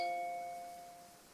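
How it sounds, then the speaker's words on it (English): A second phone gives off a single bright electronic chime indoors that rings out and slowly fades away, fairly quiet against a still room. "And I have another phone ringing"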